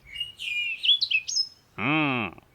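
A ghost bird calling in a Hindi horror cartoon, a run of high chirping, warbling notes followed by a single long, wavering harmonic cry, clear and close with no talk over it.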